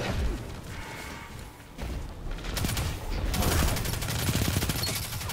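Rapid SMG fire from a hunter-class weapon in a 1v1 video game fight, sustained and loud bursts mixed with booms and impacts over a few seconds.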